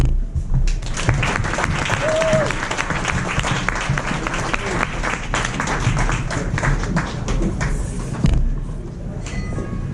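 An audience at an arts and activism event bursts into sustained applause after a speech, dense clapping near and loud, with a few voices mixed in before it thins out.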